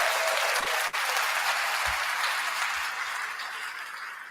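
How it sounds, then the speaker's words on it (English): Applause sound effect played on a podcast, a steady wash of many clapping hands, loud and close, fading slowly over several seconds with no talk over it. "Let me give you another hand clap."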